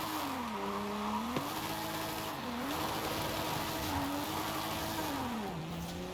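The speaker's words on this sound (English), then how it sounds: "you can still drift, or you can still slide with it, even with traction control on." Forza Horizon 5 car drifting sideways with traction control on, a steady engine drone that dips and rises in pitch as the tires slide, moderately quiet and unbroken.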